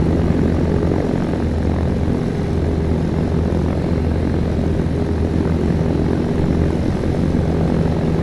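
A Cessna propeller plane flies in the video game Arma III, its engine giving a steady, loud, unbroken drone that holds at the same level throughout with no voices over it.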